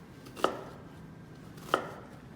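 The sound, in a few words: knife chopping onion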